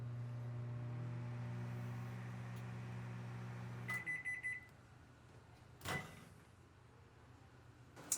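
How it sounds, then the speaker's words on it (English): A microwave oven finishing its cycle: a steady hum cuts off, followed by a short run of rapid electronic beeps, then a door clunk and quiet room noise. "hearing the microwave go off,"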